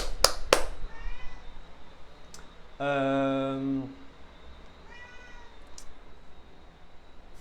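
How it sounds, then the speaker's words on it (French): A cat meows indoors, with one long harmonic meow in the middle and a shorter, fainter meow a second later, close by and fairly loud, between brief sounds of handling. "Est-ce que tu peux arrêter de miauler s'il te plaît?"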